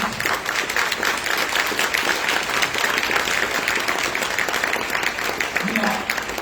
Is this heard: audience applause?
yes